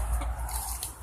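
Gamefowl hens and cocks cluck in a short, close burst from a backyard flock, a soft steady murmur with no voices over it.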